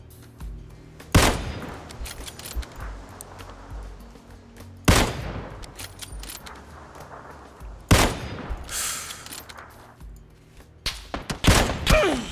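Sharp gunshots ring out in PlayerUnknown's Battlegrounds, three loud single cracks a few seconds apart, each trailing into a rumbling echo, followed by a cluster of closer shots at the end.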